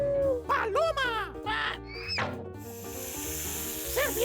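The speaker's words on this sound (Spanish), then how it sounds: "¡Serpiente!" A cartoon snake in a children's animal-names show lets out a long, sustained hiss after a run of bouncy, whistling sound effects and music.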